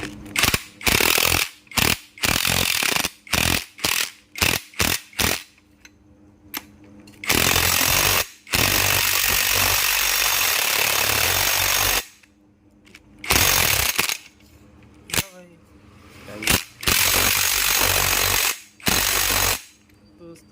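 Clutch nut on a TVS Apache 200 4V motorcycle being tightened with an impact tool, repeated loud rattling bursts of hammering, some long and sustained, separated by short pauses.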